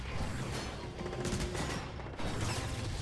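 Burst rifle fire rattles nonstop in a Transformers: War for Cybertron multiplayer match. The dense, loud volleys blend with mechanical game clatter and explosions throughout.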